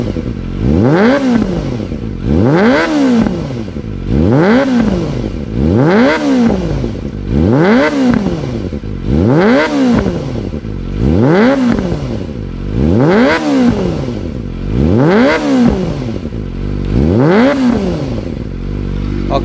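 A standard Kawasaki ZX-25R with a Japanese Over Racing exhaust, blipped about eight times in a regular rhythm to around 8,000 rpm, each rev rising sharply to a screaming wail and dropping back to idle, loud and close.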